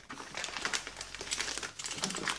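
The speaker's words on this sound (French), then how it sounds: "J'ai reçu cette enveloppe, donc j'ai attendu de faire la vidéo pour pouvoir le déballer" A paper envelope holding a Doogee Valencia 2 Y100 Pro smartphone being torn and crinkled open by hand, a close continuous rustle and crackle of paper.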